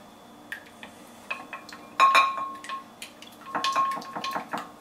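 Egg being quickly beaten in a bowl for a breadcrumb coating on catfish tacos: a fork or whisk clinks and taps against the dish in short, scattered bursts, busiest in two spells, close and fairly quiet, with no talk.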